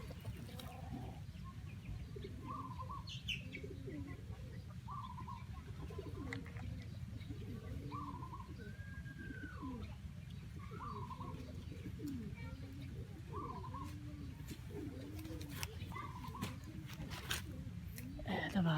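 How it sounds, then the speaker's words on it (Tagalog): White flight racing pigeons coo repeatedly in soft, rolling calls over a steady background hum, while someone talks nearby. "Ito mga kalapatids, white flight."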